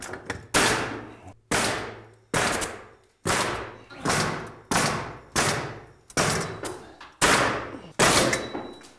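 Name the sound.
nail gun shooting nails into roof structural ties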